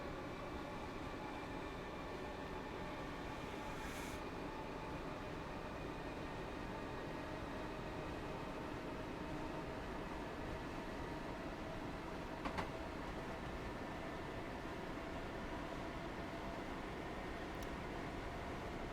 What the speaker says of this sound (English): You can do it, little train.